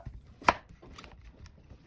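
A knife chops through a Thai eggplant on a cutting board with one sharp, close cut followed by a couple of softer taps in a quiet kitchen.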